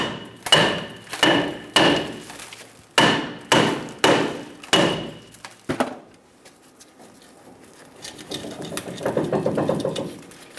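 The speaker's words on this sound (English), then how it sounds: "You may have to go around with a hammer and tap on the outside to try and loosen up the shoes" A hammer taps on the outside of a rusted rear brake drum on a Toyota Tacoma to loosen the shoes, about ten sharp metallic knocks in quick uneven bursts, then a softer scraping, rattling stretch.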